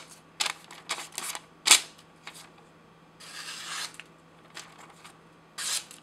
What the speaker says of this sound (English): I'll actually cut with just the tip.